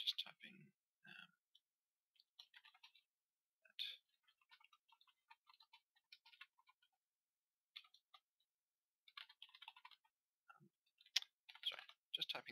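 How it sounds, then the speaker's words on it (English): Computer keyboard typing while entering notes during a coding session, heard as sparse bursts of quiet clicks and taps scattered irregularly through the clip, with pauses between runs of keystrokes. "Just typing that."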